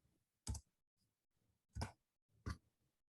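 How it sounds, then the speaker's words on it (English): Computer mouse clicking during a screen-shared session, three separate sharp clicks spaced roughly a second apart, fairly quiet, with no talk. "Clicking the wrong spot, sorry."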